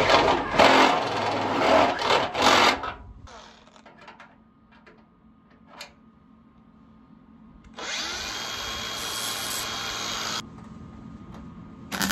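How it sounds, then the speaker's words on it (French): A steel nut is countersunk with a tool, heard as two loud grinding bursts, one at the start and one later, each lasting a few seconds, with quieter handling sounds between them. "Je prends un écrou, je vais le fraiser de façon à rentrer la tête"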